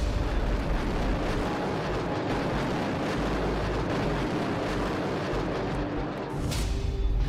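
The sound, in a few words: artillery shells exploding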